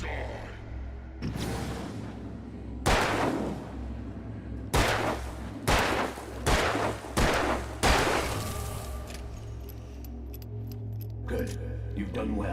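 Several loud gunshot blasts from the Alan Wake video game ring out in an irregular volley, with sharp broadband bursts and reverberant tails over a steady low hum.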